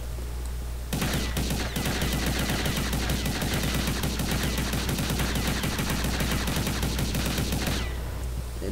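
Rapid automatic fire from a P90 SE submachine gun in a video game, a long continuous burst of closely spaced shots lasting several seconds, loud and alone, ending abruptly.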